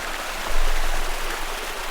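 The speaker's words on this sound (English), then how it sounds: "We're going downhill more, so we see this increase in the water and the water flow." Stream water flowing downhill along a desert path in the Tunisian Sahara near Tozeur, a steady broadband rush that swells slightly partway through and holds constant, close and fairly loud with no talking.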